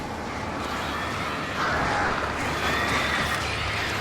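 Crows cawing in Alan Wake, a flock's harsh calls layered over a steady noisy wind-like background, growing slightly louder midway and continuing throughout.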